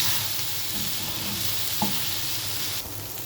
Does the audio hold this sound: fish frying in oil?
yes